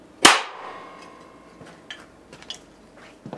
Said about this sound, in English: Again, a loud bang, a little crinkling of the can, and some steam or smoke rose out of it briefly.